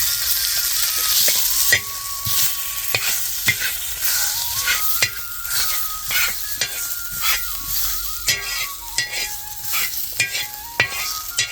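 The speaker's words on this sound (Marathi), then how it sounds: "आता थोडस तेल टाकी ते कांदा तळायला" Onions frying in a little oil at home for an egg curry, a steady close sizzle with frequent clinks and scrapes of a stirring spoon against the pan, no talking.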